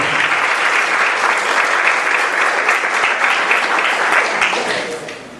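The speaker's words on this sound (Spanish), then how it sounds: "Un aplauso al Rey de Gloria." Dense, steady applause from a church congregation in praise, loud and continuous for several seconds before tapering off at the end.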